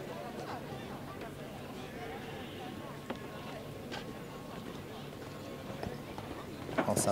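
Show-jumping horse ridden in a Polish competition arena, hooves clip-clopping steadily at moderate distance beneath a constant murmur of crowd and announcer speech.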